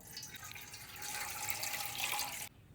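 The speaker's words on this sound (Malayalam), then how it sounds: "നമുക്ക് അതിലേക്ക് ആദ്യം ഒരു അര ലിറ്റർ പാലൊഴിക്കാം" Half a litre of milk poured into a bowl, a soft continuous splashing trickle that grows a little fuller before stopping abruptly, quiet and close.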